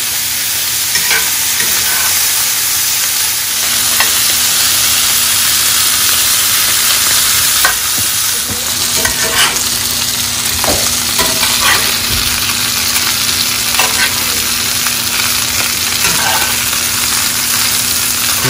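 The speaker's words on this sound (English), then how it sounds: "Look at that beautiful sear that it gets." Pork ribs searing in a hot pan give off a loud, continuous hissing sizzle with scattered pops and crackles, close up and with no voices.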